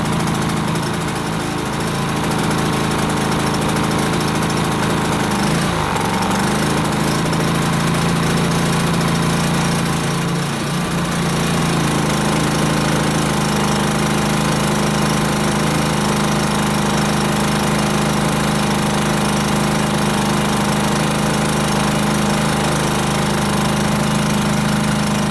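A Briggs and Stratton P2200 portable generator runs in eco mode with a loud, steady engine drone and a constant hum. It is close and continuous, with no talk.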